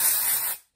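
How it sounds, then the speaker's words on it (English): A short, loud burst of hair spray hissing from an aerosol can for about half a second, then cutting off to silence. "spray that side"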